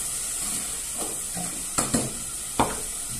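Calabresa sausage frying in oil, with a constant bright sizzle and a few sharp utensil taps and scrapes against the pan near the end.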